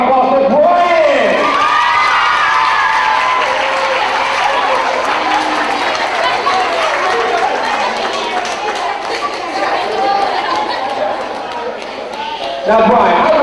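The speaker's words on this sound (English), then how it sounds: "Ladies and gentlemen, give a big round of applause for Brian!" An audience at a presentation event applauds and cheers for an honored student, with a dense, sustained wash of clapping and crowd noise and voices rising throughout.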